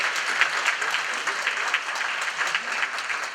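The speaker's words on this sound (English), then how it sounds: "Let's give a big round of applause to Nancy West." Conference audience at a veterans affairs and housing panel applauding a panelist, an even, continuous patter of many hands clapping throughout.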